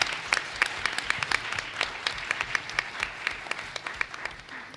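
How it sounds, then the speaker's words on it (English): An audience at a school board of education meeting claps for teachers, a steady spread of hand claps at moderate distance lasting several seconds. "Give them a round of applause because they are working hard."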